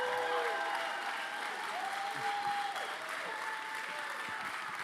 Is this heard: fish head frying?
no